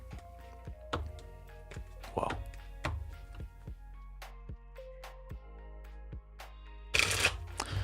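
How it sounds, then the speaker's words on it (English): Tarot cards are shuffled by hand on a table, producing a series of crisp taps and riffling slaps at an irregular pace, close and fairly quiet, with a brief exclamation from a voice and a louder rustling burst near the end. "Let's shuffle this again. Well, shuffle it actually this time."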